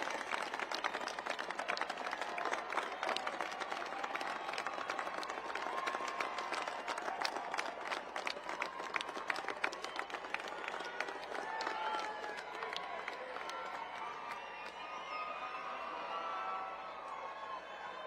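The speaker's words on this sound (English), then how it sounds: "Stand up and give them a round of applause." Graduates at a military academy commencement applaud their families, a broad crowd clapping and cheering that fills the space steadily and slowly tapers off.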